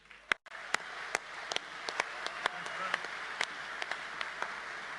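Audience applause at the Port Adelaide Football Club Hall of Fame induction night, a steady hall-filling patter of many hands with a few sharper individual claps standing out, moderately loud and continuous without a break.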